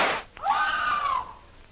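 A woman in an old-time radio jungle adventure drama lets out one loud, sustained scream that rises and then slowly falls away, close and alone after a brief noisy burst.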